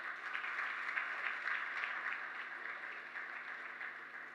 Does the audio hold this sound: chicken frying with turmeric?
no